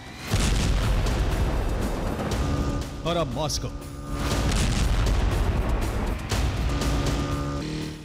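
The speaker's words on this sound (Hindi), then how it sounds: "फ्रंटलाइन पर मौजूद रूसी शहरों से लेकर राजधानी मॉस्को तक धमाके हुए हैं।" Explosions from strikes in Moscow boom and rumble heavily and continuously, with a brief dip partway through, while someone speaks over them.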